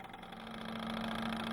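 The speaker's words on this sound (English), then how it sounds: "The engine begins while rotating freely" A Stirling engine runs on a physics lab bench, giving a steady mechanical hum with a constant pitched tone that builds slightly in loudness, alone and without speech.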